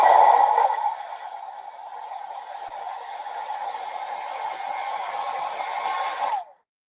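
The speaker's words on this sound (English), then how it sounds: "I just put the hairdryer on it and hold it down and it sticks" A hair dryer blows steadily with a constant whooshing hum, used to heat and stick down material on a bucket planter, louder at the start, then holding even before cutting off abruptly.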